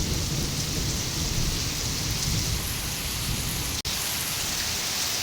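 Heavy rain pours steadily outdoors in a loud, continuous wash, with a single sharp crack of thunder cutting through near the end.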